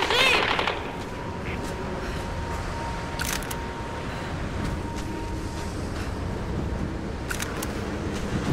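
Gunfire in the Tomb Raider video game comes as short, faint bursts near the start, middle and end over a steady background of game noise.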